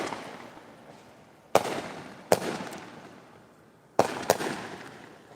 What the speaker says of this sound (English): Somebody just started shooting off fireworks.